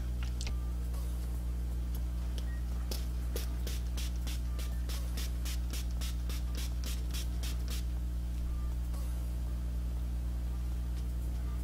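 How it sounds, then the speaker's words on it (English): A facial setting mist spray bottle gives a quick run of about a dozen short, crisp spritzes in steady rhythm, heard close over a constant low hum with no talking. "Shake to mix, close eyes, and mist over face and neck for all skin types."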